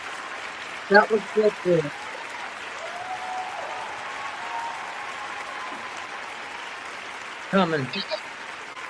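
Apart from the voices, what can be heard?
audience applause, hand clapping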